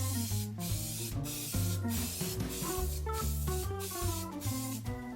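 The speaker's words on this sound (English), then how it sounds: "Spray it on one side. Spray it on the other side." Loctite spray adhesive is sprayed onto helmet template pieces, giving close, short hissing bursts that repeat in a regular rhythm over a background of music.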